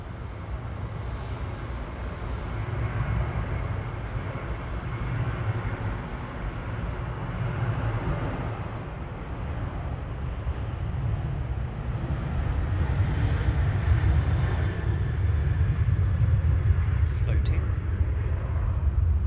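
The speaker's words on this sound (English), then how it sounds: "Flight 219 coming in from Hong Kong B LRC A350-900" A Cathay Pacific Airbus A350-900 comes in to land at Manchester Airport, with a broad, steady jet rumble that grows louder toward the end, while people talk nearby.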